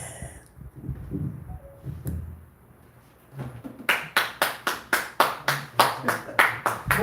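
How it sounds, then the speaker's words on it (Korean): Church congregation clapping after a prayer, starting with quiet talk and shuffling, then a run of about a dozen sharp, evenly spaced claps in a steady rhythm that carries to the end. "박수 치세요"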